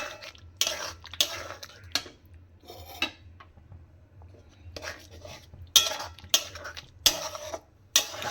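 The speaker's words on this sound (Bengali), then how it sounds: "নাড়াতে থাকবো।" Paneer being stirred in a pan, a utensil scraping and clinking against the metal in irregular bursts, with louder clusters of clicks toward the end.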